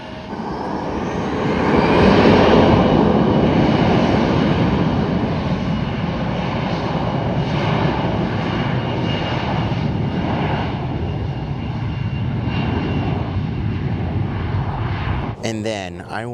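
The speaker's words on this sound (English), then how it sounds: "So we have an Alaska Embraer getting ready to take off." An Alaska Airlines Embraer jet takes off at Paine Field, its engines a steady, broad roar that swells over the first two seconds and holds strong before cutting off abruptly near the end.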